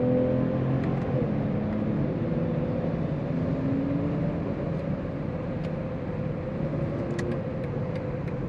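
A 2022 BMW X5 xDrive40i luxury SUV engine pulling steadily while driving, a sustained mid-pitched hum and drone with faint tonal rises, heard from the cabin without talk.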